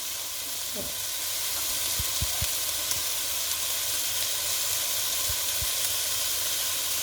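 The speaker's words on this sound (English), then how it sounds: "But I'm going to let that to sort of simmer and show juices." A sweet potato curry simmering on high heat gives off a steady broadband sizzle and hiss throughout, with a few faint clicks and taps from the pan. No one speaks.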